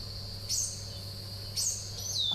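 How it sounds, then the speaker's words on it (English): Birds call from a garden in two short, high chirping bursts with a faint thin whistle at the end, fairly distant over a steady low background hum. "I've got some really noisy birds in my garden"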